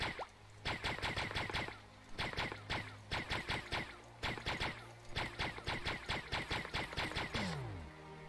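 Gunfire from the video game Starbound comes in rapid bursts of repeated sharp shots with short pauses between volleys, ending in a descending electronic tone.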